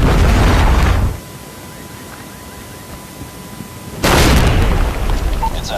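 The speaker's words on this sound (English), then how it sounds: "Friendly predator missile inbound." A predator missile strikes in a Call of Duty-style video game, giving a loud broad blast that cuts off into quiet, then a second heavy roaring burst of explosion noise.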